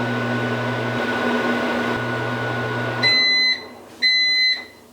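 Microwave oven cooking a peanut brittle sugar and syrup mixture with a steady hum that stops, followed by two loud, clear completion beeps.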